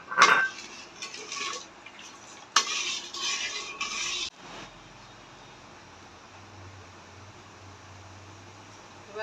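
Sugar being measured out for mango pudding: a few close clinks and scrapes of a spoon against a dish and container, then a quiet low hum with no talking.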